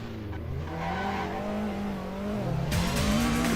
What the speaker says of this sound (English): I heard some squealing tires to help get around the turn.